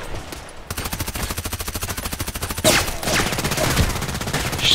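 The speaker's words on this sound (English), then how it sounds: "Blind shooting here. Blind shooting." Sustained rapid automatic gunfire in the online shooter Contract Wars, a steady rattling stream of evenly spaced shots for several seconds, then louder, more chaotic bursts.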